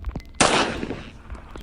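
A single sharp, loud gunshot in the Granny Chapter 2 horror game, with a quick crack and a decaying tail lasting about a second.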